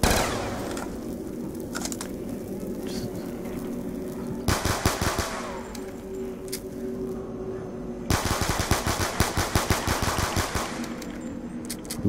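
Weapon gunfire in Black Ops 2 Zombies: two long, loud bursts of rapid automatic fire, one near the middle and one near the end, over a steady low game ambience, with no talking.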